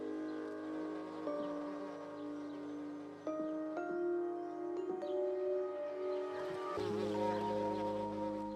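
Insects buzz in a greenhouse among flowers, with a close, sustained drone whose pitch shifts in steps as they move around, steady and fairly loud with no talking.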